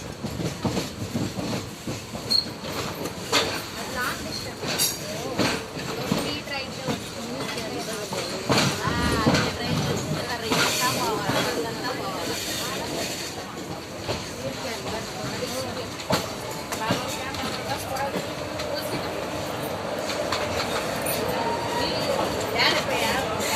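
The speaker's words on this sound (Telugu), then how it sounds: "ఇక్కడ 2 రైళ్ళు ఉన్నాయి ఫ్రెండ్స్." Trains at Vijayawada railway station, a rumbling rail and carriage noise running steadily throughout with clicking and clattering, mixed with ambient station bustle and people talking nearby.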